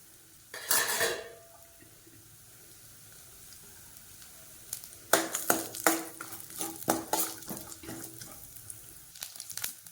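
Thinly sliced coconut sizzles gently in coconut oil as a metal spoon scrapes and stirs it around a pan, with sharp clinks in separate bursts.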